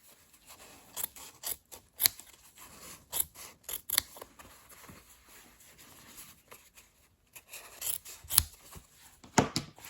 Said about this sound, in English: I'm gonna trim that close to the original stitching.